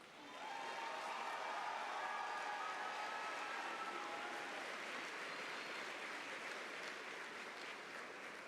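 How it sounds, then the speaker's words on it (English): A graduation audience applauds its valedictorians at the Firestone CLC Class of 2024 ceremony, a dense, sustained wash of clapping that swells quickly and holds steady for several seconds in a large hall. "Please applaud our valedictorians."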